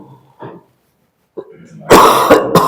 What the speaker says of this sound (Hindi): खांसी हो रखी है।